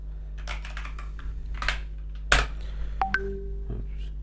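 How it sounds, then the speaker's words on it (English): Quick keyboard typing as a username and password are entered, a few short bursts of key clicks followed by a couple of brief electronic beeps, close and without talk. "let me just quickly put the username and the password."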